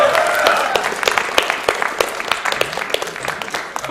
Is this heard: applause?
yes